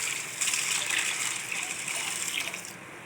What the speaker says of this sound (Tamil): இதில் இப்போ தண்ணி ஊற்றி நம்ம ஒரு 2 hours நல்லா ஊற வச்சுக்கலாம்